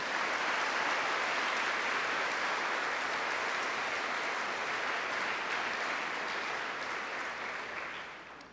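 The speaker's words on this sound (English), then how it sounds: "How about a round of applause for that?" An audience applauds for several seconds, a dense, even wash of clapping that holds steady before tapering off toward the end.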